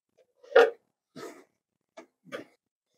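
A dog gives four short barks and yips, spaced irregularly, close and fairly loud in a quiet room.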